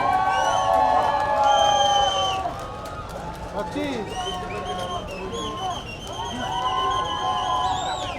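A large crowd at Paljor Stadium cheers, whoops and shouts for the Indian team at an India vs Nepal exhibition match, with loud, sustained, dense roaring and high yells throughout.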